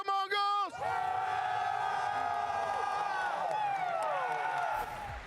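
Esports arena crowd at the Austin Major Counter-Strike grand final cheering for The MongolZ: a few rhythmic chant bursts, then a sustained loud roar of cheers and whoops from a large audience.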